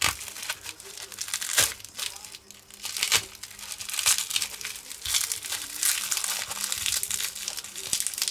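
Packaging crumpled and torn open while unboxing parcels, bursts of crinkling and tearing coming close and loud in repeated waves, with occasional talk over it.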